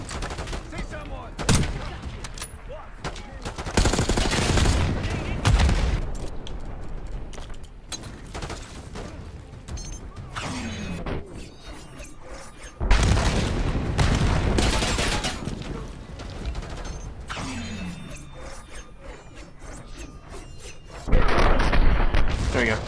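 Gunfire and explosions from the video game Call of Duty: Black Ops 6 boom and crackle in bursts, with heavy blasts and rapid shots under shouted voices.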